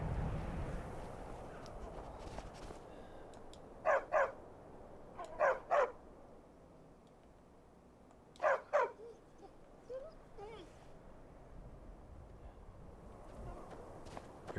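A pet dog barking in the Skyrim video game: three paired double barks spaced a few seconds apart, moderately loud over a quiet ambient background, with a couple of fainter yips afterward.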